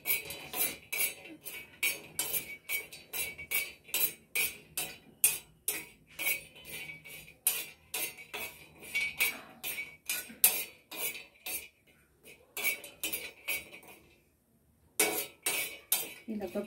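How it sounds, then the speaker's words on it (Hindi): Dried harad (myrobalan) pieces being dry-roasted in a pan, with rapid, continuous metallic clinking and scraping of a spoon against the pan that pauses briefly near the end before resuming, close and fairly soft. "अभी मैं इसको थोड़ा और भून लेती हूँ।"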